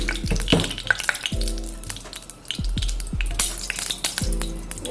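Oil hits a hot pan with a loud sizzle, then crackles and spits steadily, broken by a few clinks of a utensil against the metal; no talking.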